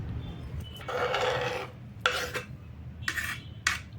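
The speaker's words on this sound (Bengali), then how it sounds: "একটা টমাটো নিয়ে টমাটোটাকেও একইভাবে চৌকো চৌকো মতো কেটে নিচ্ছি" A knife chops a tomato into small cubes on a board, giving a few short rasping cuts in separate bursts, close and fairly loud with low background hum and no talk.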